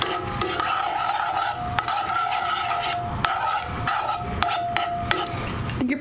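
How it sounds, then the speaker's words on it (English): Tongs stirring a hot honey pan sauce in a very hot pan, with continuous scraping and rubbing strokes over a steady sizzle, close and fairly loud. "you just want to give that a good stir and make sure the honey is kind of dissolved"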